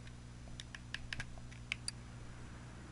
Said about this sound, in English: And type in cam gear.